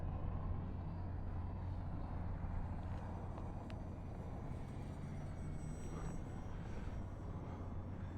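Steady electric whir of an FMS F4U-4 Corsair 800mm RC model airplane flying a low pass in gusty wind, a faint, continuous drone with slight swells and no talking.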